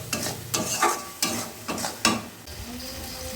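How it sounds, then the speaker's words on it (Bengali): Spice paste of ground coriander, cumin, salt and turmeric being stir-fried in a pan: repeated scraping stirs over a steady soft sizzle, close and moderately loud, with no talking. "মশলাটা ভালো করে কষাবো।"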